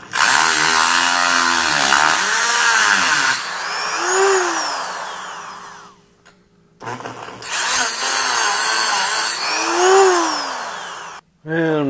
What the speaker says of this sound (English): now I gotta recut them with my special Dremel spline cutting tool